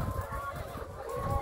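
Laying hens in a chicken coop cluck and murmur in a busy, continuous chorus, fairly close, with no talking.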